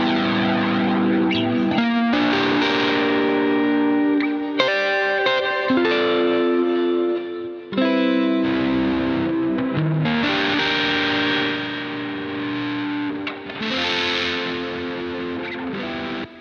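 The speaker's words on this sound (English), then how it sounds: "The distortion sounds like the typical jazz chorus distortion." Electric guitar chords run through the Nembrini Audio Jazz Clean amp plugin with its distortion engaged. The tone is loud and fuzzy with a chorus-like shimmer, and the strummed chords are held and then cut off.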